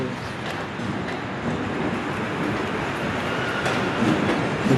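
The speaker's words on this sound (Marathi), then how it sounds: "ती ट्रेन चालली" A train rolls past with a continuous loud rumble and rattle of wagons that holds steady and swells slightly toward the end, with no talking over it.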